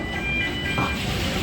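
An amusement park tram car at Morey's Piers rumbles along with a steady low drone and faint rhythmic clatter, close by, a high whine running over it.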